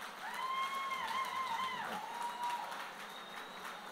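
An audience claps and cheers after a speech, a sustained crowd roar with whoops and shouts rising over the clapping before it eases off.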